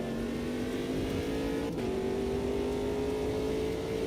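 Ginetta race car engine in the sim racing game Automobilista 2: a steady engine drone whose pitch climbs gradually, with a brief dip as a gear changes, heard from onboard at moderate level.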